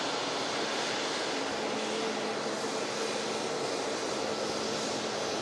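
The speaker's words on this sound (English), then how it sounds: "taxiing off the runway is a SmartLynx" A SmartLynx Boeing 737 taxiing off the runway after arriving from Kos, its engines a continuous broadband roar heard steadily from outdoors with no pauses.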